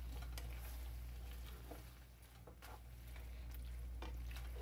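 Garlic sizzles steadily in a pan as part of a creamy sauce, a continuous frying hiss with scattered crackles and occasional soft stirring scrapes, loud and close with no talk.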